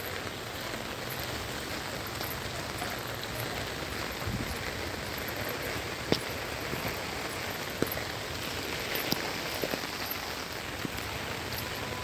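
Steady rain falls on a fairly empty street, heard by someone walking under an umbrella, with a dense continuous patter and a few sharper drops standing out now and then.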